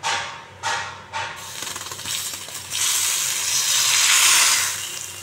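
Hot spiced oil tempering poured into mixed vegetable dal, opening with a few sharp metallic taps and short bursts, then a loud, rising spitting sizzle that swells and holds.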